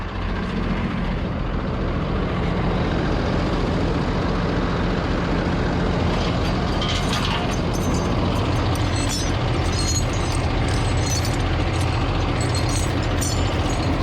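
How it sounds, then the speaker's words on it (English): A truck engine runs steadily while the truck is being repositioned, a loud continuous low rumble filling the scene throughout with some mechanical rattling higher up and no talking. "Now reposition the truck again."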